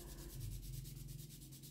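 Sandpaper rubbed back and forth along a dyed leather edge, quick, even, close-up strokes in a steady rhythm with no voices.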